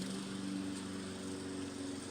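Close, steady drone of a Hayter Harrier 41 Pro petrol lawn mower running through a lawn, with a constant engine hum and blade whir and no pauses.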